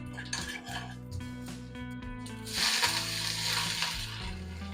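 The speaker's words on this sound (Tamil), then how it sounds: "கடுகு உளுத்தம்பருப்பு தாளிச்சிக்கலாம்" Mustard seeds and urad dal crackle and sizzle in hot oil for a South Indian tempering, with close metallic clinks of a spoon against the pan and a louder burst of frying midway.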